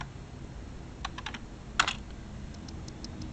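Typing on a computer keyboard during a Windows 98 SE setup, a few faint, quick key clicks in small clusters with one sharper keystroke, heard close and alone over quiet room noise.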